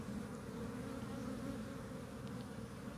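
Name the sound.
honey bees buzzing and flying around a hive box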